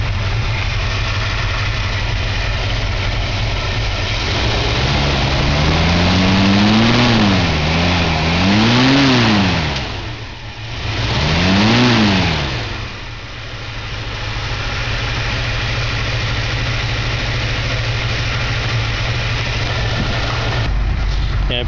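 A 1964 1/2 Ford Mustang engine idles at a cold start, then is revved in three rising-and-falling blips before settling back into a steady, close, loud idle.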